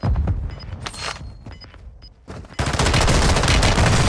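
Video game gunfire: scattered single shots and short bursts in the first half, then a loud, dense fusillade of sustained automatic fire fills the final seconds.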